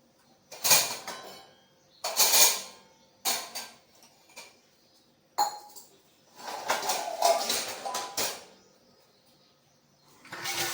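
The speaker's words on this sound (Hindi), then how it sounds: "मैंने फ्राई पैन उतारा और रख दी चाय" A frying pan lifted off a home kitchen stove and a tea pot set down, heard as a series of sharp metallic clanks and knocks in separate bursts, close by with quiet gaps between them and no talking.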